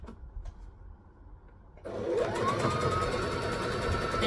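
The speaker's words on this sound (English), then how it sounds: "I'm going to stitch and backstitch" A sewing machine stitches and backstitches a pre-ruffled ruffle onto a wrap skirt: quiet room at first, then a steady, loud mechanical whir that runs without a break to the end.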